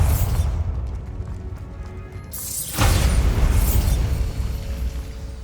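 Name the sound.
Bombarda spell blasting a barricade, from video game Hogwarts Legacy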